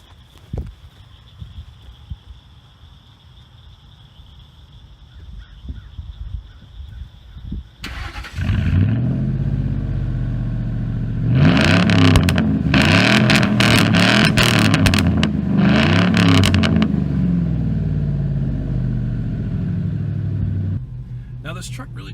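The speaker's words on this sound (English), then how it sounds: "It's got custom exhaust, and with the V8 it actually doesn't sound too bad." A Ford F150 V8 with a custom exhaust idles quietly, then starts up into a deep rumble and revs in several loud bursts before settling back, with a voice talking over parts of it.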